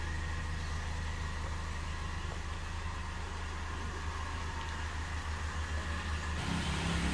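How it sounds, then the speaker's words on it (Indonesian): A 2018 Wuling Cortez 1.8 Luxury AMT idles with a steady, even engine hum and low exhaust rumble, close by and continuous with no talk. "dari suara knalpotnya terdengar ya terdengar mesinnya"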